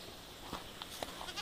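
Pygora goats, a pygmy angora fibre breed, let out a few short, faint bleats in quick succession against a soft background hiss.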